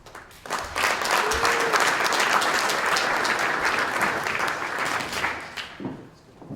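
Audience applause welcomes a speaker to the podium at an edtech demo day, a steady room-filling clapping that swells quickly, holds for several seconds, then tapers away.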